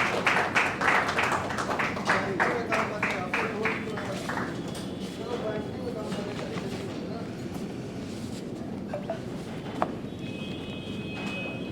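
Applause from an audience welcoming two guests onto the dais at a hospital's silver jubilee celebration, dense clapping strongest in the first few seconds and then settling into a steady crowd wash, with talk over it.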